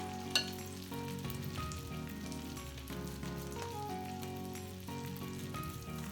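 Sweet potato and chickpea burger patties fry on medium-high heat in a pan, giving a steady, close sizzle that holds at an even level throughout, with faint clinks of utensils and music-like tones underneath.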